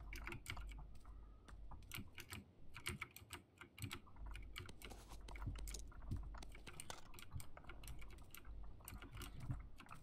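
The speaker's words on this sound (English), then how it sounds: "I really need to get a quieter keyboard" Rapid typing on a computer keyboard during a PUBG session, with dense, close, loud clicking and clacking that runs steadily for the whole stretch over a low background hum, with no voices.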